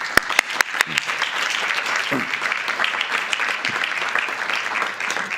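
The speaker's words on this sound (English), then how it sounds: "So let's give that a clap." Audience applause at a school board of education meeting, steady dense clapping that carries throughout, with a few sharp louder claps near the start.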